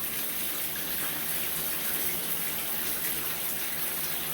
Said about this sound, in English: Everything works, the water is nice and warm.